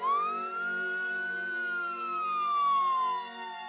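A loud wailing ambulance siren sweeps slowly up and then back down in pitch, continuous and close, with no other sounds around it, at an Odisha train crash site.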